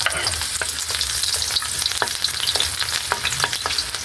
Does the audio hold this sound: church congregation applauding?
no